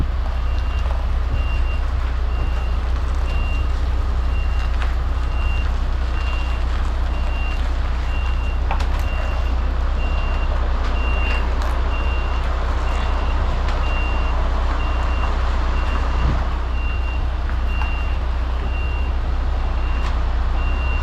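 An articulated lorry on a class one delivery in South London manoeuvres slowly around a corner with big kerbs. The diesel engine rumbles steadily and loud, and a reversing beeper repeats a high pulse the whole way through.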